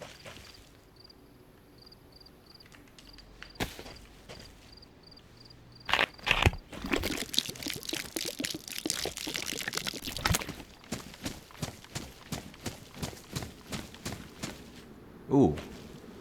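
Water is poured and filled from a source in the survival video game DayZ, heard as a soft, splashing trickle with footstep-like thuds and occasional talk.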